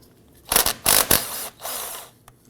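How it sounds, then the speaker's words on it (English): A ratchet with a 13mm socket loosens the brake caliper bolts on a 2015-2020 Ford F-150, giving a few short, close clicking bursts with pauses between them. "Using our 13mm socket, loosen and remove the two bolts."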